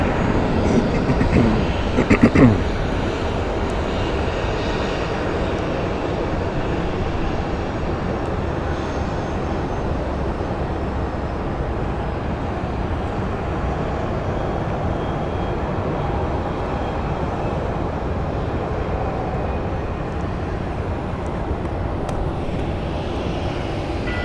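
An airliner departing from Phoenix Sky Harbor airport gives a steady, broad jet roar that holds at an even level throughout, after a short burst of rattling noise at the start.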